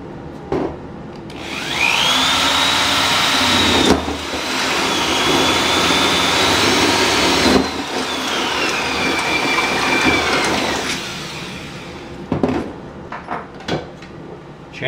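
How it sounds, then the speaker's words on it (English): A power drill bores holes for a cargo carrier modification on a DK2 vehicle, running in two long, loud sustained bursts with a whining pitch that rises and falls, followed by a few short clicks and knocks. "Now just drill."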